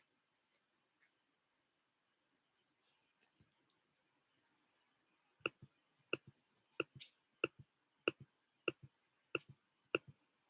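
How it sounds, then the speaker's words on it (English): Tarot cards are shuffled close up in a quiet room: a few scattered soft ticks, then a run of sharp, evenly spaced clicks and snaps as the deck is riffled and tapped together. "Shuffle them all over again"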